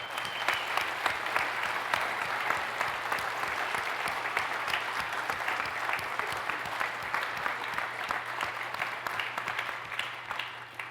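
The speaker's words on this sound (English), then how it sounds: "Give yourself a round of applause" A large live crowd applauds itself at a gaming convention's closing ceremony, producing a dense, steady wash of clapping that holds loud and even for about eleven seconds, with a faint low hum underneath.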